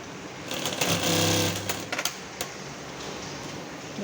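A sewing machine stitching upholstery for a two-seat sofa backrest runs in a rapid whirring burst of about a second, then stops with a few clicks and thumps, close and alone.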